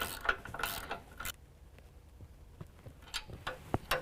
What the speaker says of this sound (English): we can use a 9/16 wrench and socket and tighten down our bolt